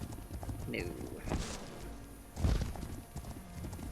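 Wild horses in the game Legend of Khiimori, hooves clip-clopping in an uneven rhythm over steady ambient noise, with a brief whinny early on and a louder cluster of hoof thuds midway.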